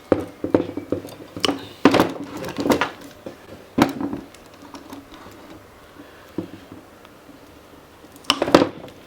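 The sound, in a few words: crimping a metal lug onto a cable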